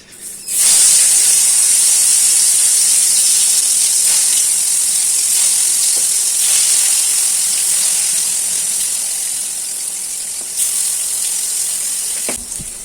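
Steady loud sizzling hiss of spiny gourd frying in hot oil, continuous throughout with a few faint clinks.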